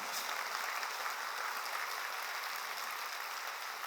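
Congregation in a church clapping during a sermon, a sustained, fairly faint wash of many hands blending into an even patter, steady for several seconds with no speech over it.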